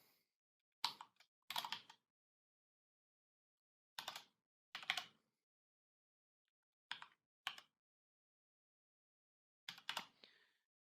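Short bursts of computer-keyboard typing come in four separate clusters of quick clicks, with silence between them. The keystrokes sound close and crisp, and no one is talking.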